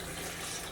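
Water pours into a blender for chilaquiles sauce, a steady close splashing rush that runs unbroken with no voices.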